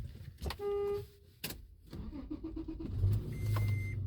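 A beat-up Toyota FJ Cruiser's engine starts. Warning chimes sound first, then a short crank and a low idle settle in, close by.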